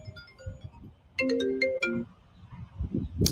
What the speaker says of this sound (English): Oh, I gotta take this phone call.